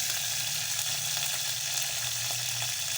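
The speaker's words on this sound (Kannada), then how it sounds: "ಮೊದಲ ಮೆಣಸಿನ್ಕಾಯಿ ಹಾಕ್ಬೇಕು 1 4 ಹಸಿಮೆಣಸಿನ್ಕಾಯಿ, ಅದು ಎಣ್ಣೆ ಕಾಯನ" Green chillies fry in hot oil for a Kannada sambar, giving off a steady, close sizzle that crackles continuously with no pauses.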